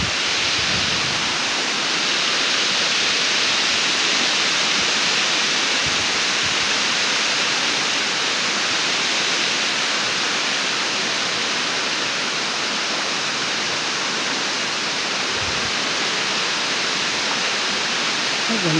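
Aruyan Falls, a waterfall at Sablayan Prison and Penal Farm, roars as a steady, loud, close wash of falling water that holds unbroken from start to finish.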